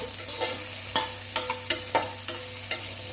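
Cut carrots are stirred in a frying pan for a mixed-vegetable sambar: a low steady sizzle broken by a series of sharp, rhythmic spatula scrapes and knocks, close and fairly loud, with no voices.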